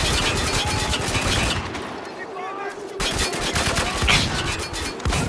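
Rapid bursts of rifle and automatic gunfire in the shooter video game Spec Ops: The Line, loud and dense, with a short lull midway before firing resumes.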